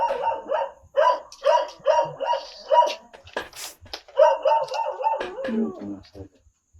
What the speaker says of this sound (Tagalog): Merong aso dito.